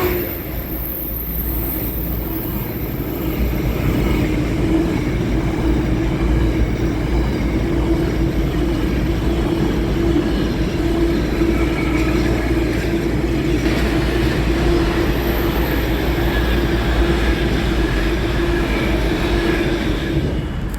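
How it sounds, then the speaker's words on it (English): A seven-coach East Midlands Railway Meridian train runs past at Chesterfield on the Midland Main Line, a steady loud rumble with droning engine tone holding for the whole stretch, close and continuous. "there is the 1504 East Midlands Railway service to London to Pancras. It's a 7-coach Meridian"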